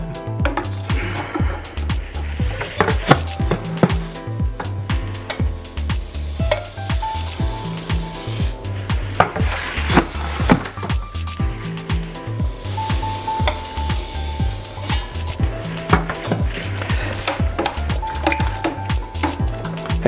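About 4.5 kg of grain being poured and stirred into a homebrew beer mash makes a steady gritty rustle, broken by repeated knocks and scrapes from the stirring, close up with no speech.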